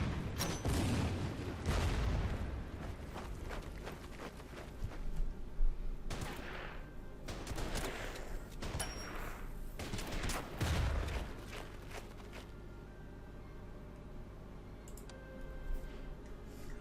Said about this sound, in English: now at least I can use artillery barrages to kind of finish off those guys